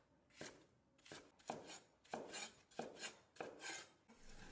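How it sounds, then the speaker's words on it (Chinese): A knife chops a smashed cucumber diagonally into chunks on a board, giving about seven quiet, evenly spaced cuts, each a crisp slice ending in a soft knock. "斜刀切成块"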